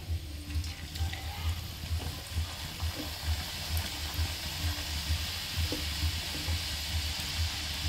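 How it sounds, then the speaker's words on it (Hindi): Namak pare, crisp flour snacks, deep frying in hot oil on a gas flame, giving a steady, continuous bubbling sizzle with a low rumbling undertone throughout, no talking. "तो अब हम अपने सारे नमक पारे डीप फ्राई करते हैं।"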